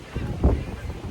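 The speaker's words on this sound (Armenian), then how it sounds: "Եղանակը այսօր լավ ցուրտ անձրև է եկե առավոտից, քամի է հիմա էլ" Wind on a cold, rainy day in Paris buffets the microphone in a low, steady rumble, swelling into one stronger gust midway through the short stretch.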